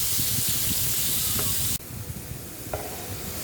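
Paneer cubes fry in oil in a pan, giving a steady close sizzle and hiss with occasional stirring scrapes. The sizzle drops abruptly to a quieter level partway through.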